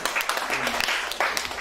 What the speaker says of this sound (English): A very big stand clap for Akodi.